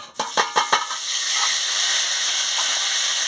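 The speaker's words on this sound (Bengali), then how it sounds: "আদা বাটা, জিরে বাটা, শুকনো লঙ্কার গুঁড়ো, হলুদের গুঁড়ো একসঙ্গে দিয়ে দিচ্ছি।" Ginger paste, cumin paste, dried chili powder and turmeric hit hot oil in a heated pan, a few quick clatters giving way to a loud, steady, close sizzle with no talking.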